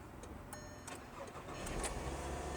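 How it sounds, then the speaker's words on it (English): A VW Golf Mk5 engine cranks and catches after a fuel pump replacement, followed by a low idle rumble building beneath a few faint clicks and jingles. "let me start the car"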